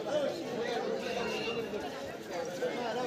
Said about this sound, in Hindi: कितना भीड़ है, देखिए कितना शोर हो रहा है।